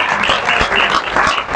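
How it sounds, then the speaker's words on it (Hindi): An audience claps together at a Dussehra festival program in Mangalore, a dense, steady burst of applause lasting under two seconds, close and loud. "सब ताली बजाओ"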